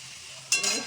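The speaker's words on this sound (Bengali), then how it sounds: "গোটা গরম মশলাটা থেতো করে নিয়েছি, সেটা দিয়ে দিলাম।" Crushed whole garam masala drops into hot oil while making Bengali chana dal, giving a brief sharp sizzle that bursts loud mid-way after a quiet start.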